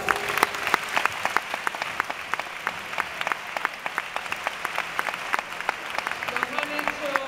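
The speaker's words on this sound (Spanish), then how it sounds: "dedicar un fuerte aplauso a todos los artistas del Grupo de Teatro Municipal" Steady applause from a theatre audience, many hands clapping in a dense continuous patter at moderate volume, with no voices over it.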